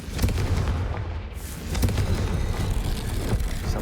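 A Confringo fire spell bursts in the Hogwarts Legacy video game, a loud, dense boom with crackling debris that swells again partway through and stays heavy throughout, with no talking.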